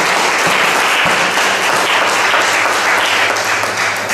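Loud, dense applause from an audience at a book launch, a steady wash of many hands clapping that holds evenly for about four seconds without talk.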